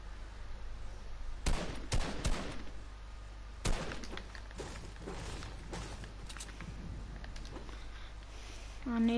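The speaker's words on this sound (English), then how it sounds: "Who's shooting at me?" Scattered gunshots crack in a Fortnite creative match, a few sharp bursts early and another midway, fairly faint over quiet background game noise.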